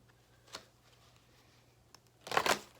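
Tarot cards being shuffled close by, a few light clicks and then a brief, louder burst of riffling and slapping toward the end, with a quiet background hum.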